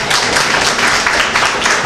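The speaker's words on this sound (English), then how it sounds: "Please give them a warm applause" An audience at a Belize Cancer Society address applauds the Dangriga Center founders: dense, loud, sustained clapping from many hands, even and unbroken across the whole stretch.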